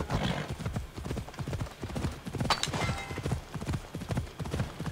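Horse hooves clip-clop at a steady trotting rhythm in the Assassin's Creed Odyssey video game on Xbox Series X, fairly loud and close, with a brief whinny-like tone partway through and no talking.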